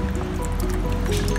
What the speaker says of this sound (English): you want to let all of the water go out of the head